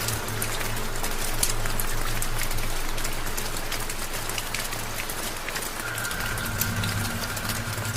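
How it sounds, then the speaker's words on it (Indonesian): Light drizzle falls steadily outdoors at night, a soft even patter of rain with a faint low engine hum and occasional bird calls in the background. "Di luar masih gerimis, jalanan yang dilalui juga sangat licin."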